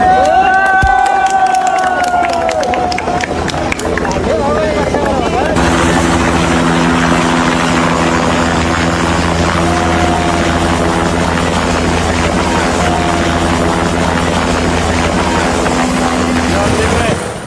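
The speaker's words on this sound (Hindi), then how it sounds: "हेलीकॉप्टर पहुंचा रेस्क्यू के लिए।" A rescue helicopter hovers over a Nepal flash-flood area, its loud, steady rotor and engine drone filling the whole clip. Voices and crowd noise carry underneath the roar.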